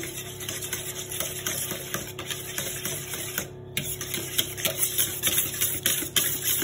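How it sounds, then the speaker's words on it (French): A coconut flan mixture is stirred in a bowl, giving a continuous close scraping and swishing with small repeated clicks of the utensil, steady and fairly quiet with no talking. "vous mélangez bien le tout"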